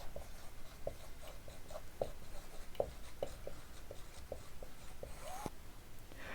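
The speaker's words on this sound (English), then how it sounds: "So I'm just going to write that." Marker or pen writing out an energy balance on a board, a steady run of short scratchy strokes and taps repeating at close range with no talking.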